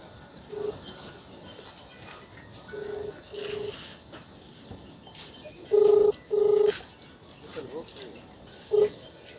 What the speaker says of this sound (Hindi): आइए हम लगाते हैं फोन थाना प्रभारी को, खरीक थाना के प्रभारी सूबेदार बाबू को।